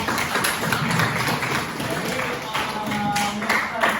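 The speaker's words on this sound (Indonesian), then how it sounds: "Oke, tepuk tangan ya." Classroom applause during a lesson, a steady wash of many hands clapping at once that carries on for several seconds, mixed with a murmur of voices.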